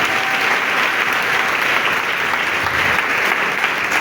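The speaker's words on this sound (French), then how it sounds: "On acclame le Seigneur. Acclame puissamment Jésus" A church congregation applauds, a dense, steady burst of many hands clapping that holds loud and even throughout.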